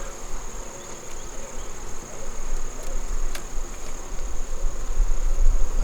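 Honey bees hum steadily inside a hive readied for winter, a dense, continuous buzz close at hand that swells slightly in loudness toward the end.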